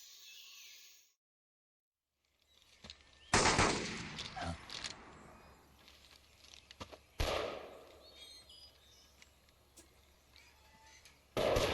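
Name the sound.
gunfire in video game Metal Gear Solid 3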